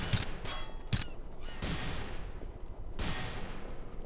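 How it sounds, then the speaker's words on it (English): Grenade explosions in a video game: several sharp, loud bursts with ringing tails, two close together near the start, another shortly after and a final one later, over a constant rumbling background of battle. "Grenades."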